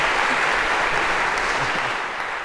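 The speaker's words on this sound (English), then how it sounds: "a round of applause for Spot as well" Lecture audience at Harvard giving a round of applause for a robot, loud, dense and steady clapping throughout.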